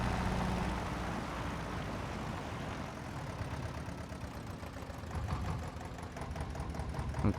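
A tractor engine in the farming game Farming Simulator 22 idles with a steady, dense mechanical rumble and knocking texture, constant throughout at moderate loudness with no talking.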